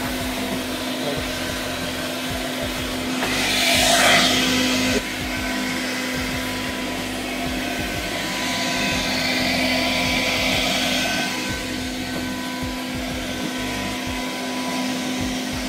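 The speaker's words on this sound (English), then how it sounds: "this is the perfect leaf blower" A leaf blower made from an old vacuum cleaner gives a steady, loud motorized whoosh that runs continuously, swelling and dipping slightly in strength throughout.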